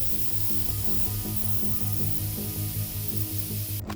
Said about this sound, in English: I'm going to go ahead and airbrush those with just Tamiya flat white, XF2 flat white